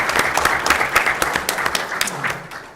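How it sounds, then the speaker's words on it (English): An audience at a school board meeting applauds, a dense burst of clapping that stays fairly loud for a few seconds and then begins to thin out at the end. "let's give them this PTO a round of applause for their effort"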